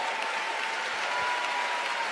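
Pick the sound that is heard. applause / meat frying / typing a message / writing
applause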